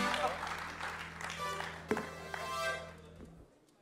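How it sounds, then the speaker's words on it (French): Audience applause at a French Tech startup pitch competition as a referee comes on stage, a dense burst of clapping that swells and then fades away after a few seconds. "Allez, on l'applaudit bien fort."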